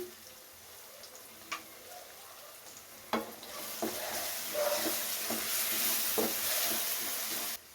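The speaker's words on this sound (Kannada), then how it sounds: "ಉಪ್ಪು ಹಾಕಿದ್ಮೇಲೆ ಇನ್ನೊಂದು ಸಲ ನೀಟಾಗಿ ಮಿಕ್ಸ್ ಮಾಡ್ತಾಯಿದ್ದೀನಿ" Bottle gourd curry with salt and turmeric being stirred in a pan: scattered scrapes and clacks of a spoon against the pan, then a steadier hiss of sizzling that swells from the middle of the clip onward, with no talking.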